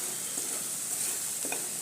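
A quiet, steady sizzle of spices frying in hot oil, with faint stirring clicks, no voices.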